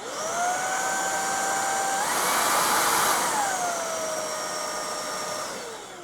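An Uwant V500 stick vacuum cleaner runs with a steady high whine that steps up in pitch mid-run as the power rises, then drops back, loud and close, with no voices.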